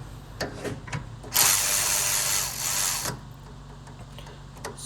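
A power tool drives in a rear hub bolt on a 2003-2007 Honda Accord 3.0 during wheel bearing and hub replacement, a single loud, steady whir of nearly two seconds, with faint clicks before and after.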